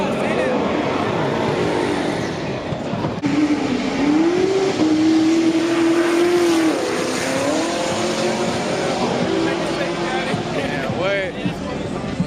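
A fast truck at a car meet roars past with rising engine tone and tire noise, loud and close, amid crowd chatter and voices.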